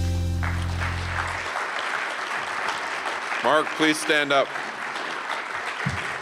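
An audience at a State of the City presentation breaks into steady, full applause for an honoured guest, with a voice speaking briefly over the clapping.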